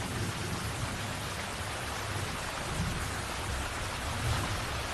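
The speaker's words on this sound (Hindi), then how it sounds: "बारिश का मौसम आ गया है।" Steady rain pours down, a dense even hiss of drops with a low rumble underneath, continuous and fairly close, no voices.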